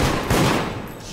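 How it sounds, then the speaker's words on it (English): In the Deceit video game, a single loud gunshot fires and its rough, noisy tail rolls off quickly within about a second. "I shoot him."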